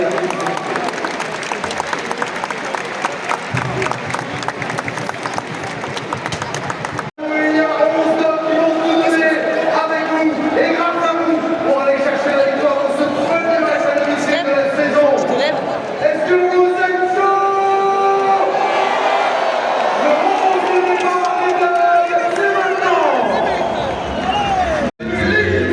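A stadium crowd at a Ligue 1 match between LOSC Lille and Monaco applauds in memory, with sustained loud clapping and a cheering roar that fill the space for the whole stretch, swelling after a brief pause near the start.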